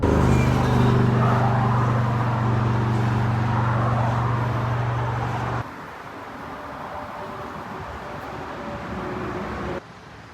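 Interior of a car driving along the road to Cape Cod, with a loud, steady engine and road rumble that drops abruptly to quieter, broadband road noise partway through.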